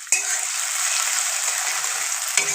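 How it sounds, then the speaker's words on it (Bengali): Potatoes, chopped tomato and peas fry steadily in a pan, a continuous bright sizzle opening with a sharp crackle as they hit the oil and a light scrape near the end, with no voices. "ভালো করে আমি ভেজে নেব।"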